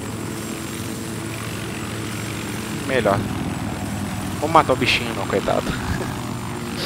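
Aircraft engine drone from a plane flying in the Battlefield 4 Naval Strike map, a steady continuous hum throughout, with someone talking over it.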